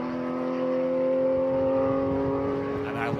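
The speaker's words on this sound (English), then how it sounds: "Love the sound of this Porsche." A Porsche race car at the Pikes Peak International Hill Climb holds a steady, loud, buzzing engine note with strong harmonics, sounding close and sustained for a few seconds.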